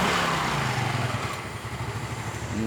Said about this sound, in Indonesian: Nah, sudah nyala motornya, didengarkan suaranya.